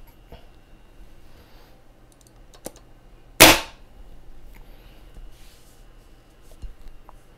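A MacDev Cyborg 6 paintball marker fires a single sharp, loud shot up close against a quiet background with faint handling noise.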